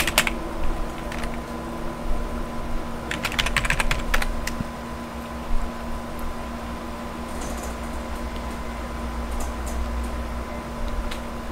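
Someone types a password on a computer keyboard while updating a Linux distribution under WSL on Windows 11, quick bursts of close key clicks followed by a long stretch of steady room hum with a fan-like tone.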